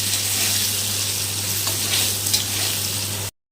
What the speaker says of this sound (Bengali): আমি আগে ভেজে নিচ্ছি নাহলে অনেক সময় আলুটা গলে যায়